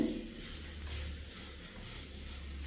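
Sugar, grated coconut and banana sautéed together in a pan, a low continuous sizzle with faint stirring scrapes, close and fairly quiet, with no voices.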